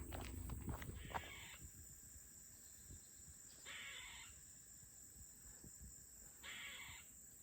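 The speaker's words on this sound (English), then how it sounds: "it's a very funny sounding bird." An unseen bird calling outdoors with an odd, funny, crow-like caw, three separate harsh calls spaced a few seconds apart, moderately near, with faint rustling and footsteps in between.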